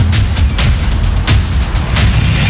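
Volcanic eruption explosions rumble and boom in a loud, continuous roar, with several heavier blasts bursting through the dense low-end churn.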